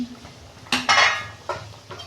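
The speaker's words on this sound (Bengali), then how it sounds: "আমি ঢাকনা খুলছি" A metal lid comes off a cooking pot of boiled cauliflower and potatoes, giving a few sharp clanks and a short scrape, close and fairly loud, with no talking.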